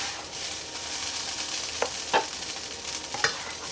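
Pre-cooked hash browns sizzle in a 12-inch frying pan, a steady broad frying hiss with a few sharp scrape-like clicks as they are stirred, moderately close and with no talking.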